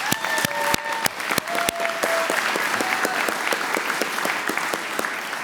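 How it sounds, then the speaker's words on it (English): Audience applause at an anti-scam summit closing for the event sponsors, a brief burst of scattered claps with sharp individual hand slaps, moderately loud and continuous for several seconds. "I really would like to thank them with a small applause"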